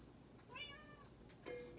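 A house cat meows indoors: a drawn-out, wavering meow followed by a shorter second one, fairly faint over a low background hum.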